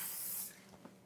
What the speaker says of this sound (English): make sure you keep spraying it